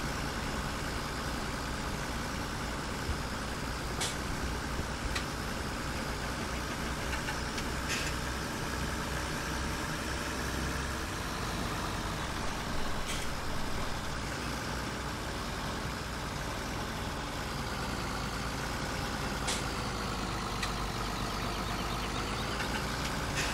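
Tractor engine in Farming Simulator 17 idling steadily while being parked, a continuous low rumble running throughout with a few faint higher clicks over it and no talk.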